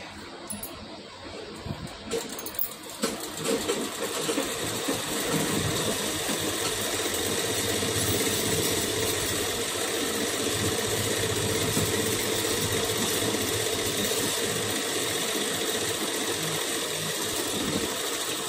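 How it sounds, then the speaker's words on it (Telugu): A sewing machine stitches a blouse, running in a continuous steady mechanical whir with a rhythmic motor hum after a few stop-start clicks at the beginning, close and with no talking. "ఇలా జాయిన్ చేసుకొని ఇట్లా అనుకొని దీని మీద ఒక కుట్టు వేసుకోవాలి"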